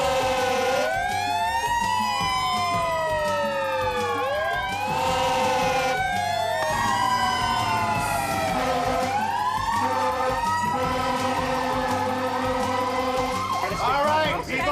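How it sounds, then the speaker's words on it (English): An emergency siren wails with rising and falling sweeps over a steady rumble of traffic or engine noise, loud and sustained throughout, building toward the end, with no clear voices. "We got an ambulance coming."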